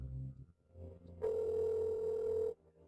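A steady telephone dial tone comes in after a short quiet stretch, a continuous flat hum that holds for over a second before cutting off as a call is placed.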